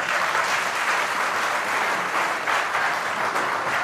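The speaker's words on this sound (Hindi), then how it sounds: "ताली जरूर बजा दिया करें आप लोग।" An audience at a live darbar gathering claps steadily, a continuous wash of many hands that holds at an even, fairly loud level with no voices standing out.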